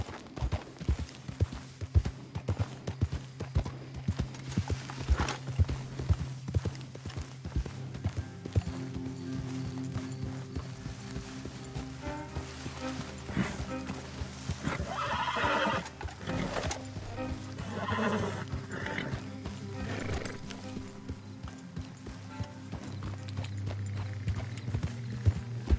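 A horse gallops in Red Dead Redemption 2, with steady clip-clopping hooves and several whinnies over the game's ambient background, heard alone without talk for most of its length.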